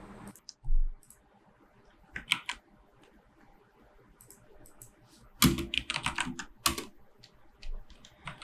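Typing on a computer keyboard while entering code, with scattered soft key taps and a couple of louder bursts of rapid clacking, close and dry, with no talking.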